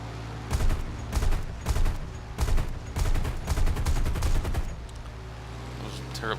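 Aircraft cannon and machine-gun fire from a P-63A-10 in War Thunder, several loud bursts of rapid shots over a steady engine drone, with a short pause between volleys.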